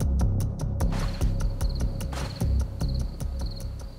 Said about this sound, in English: The cricket's song will be the last thing you hear.